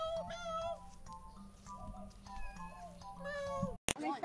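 A cat meows repeatedly in a series of close, clear calls, with some faint background noise and a brief sharp click near the end.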